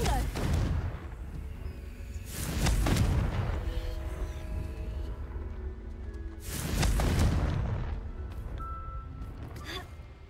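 Confringo fire-spell blasts in Hogwarts Legacy, cast repeatedly: two loud, booming bursts a few seconds apart, each swelling and fading into a rumbling tail, over a low background.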